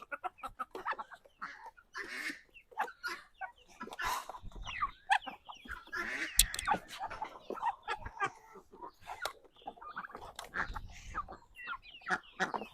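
Farmyard chickens clucking repeatedly in irregular bursts, close and fairly loud, along with other fowl such as ducks and turkeys, with occasional human speech mixed in.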